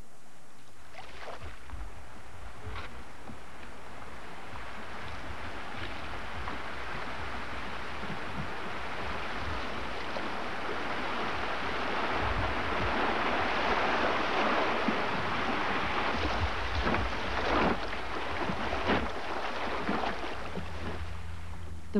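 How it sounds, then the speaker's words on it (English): Wooden rafts made from hollowed-out tree trunks drift down the Dunajec River gorge, with a steady wash of flowing water and faint splashes. No one talks. "A great way to enjoy the scenery is with a raft trip down the river."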